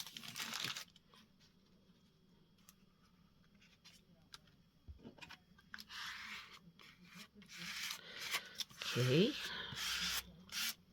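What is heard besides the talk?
smoothing paste paper by hand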